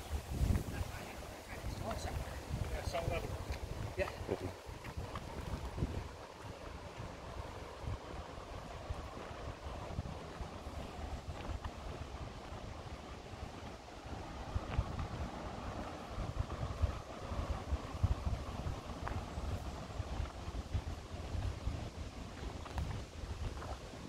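Steady wind buffets the microphone throughout, a constant low rumble with gusts, while people talk intermittently.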